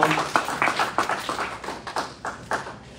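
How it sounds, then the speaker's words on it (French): Sparse, uneven clapping from a small gathered audience at a community celebration in Champaign, Illinois, irregular hand claps a few per second with faint background murmur, no sustained cheering. "Pendant qu'il vient, nous l'encourageons avec un peu d'acclamation."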